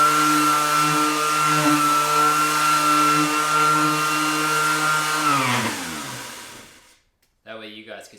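A Ryobi 5-inch P411 battery orbital sander hums steadily at close range for about five seconds, then winds down to silence, followed by a brief burst of someone talking.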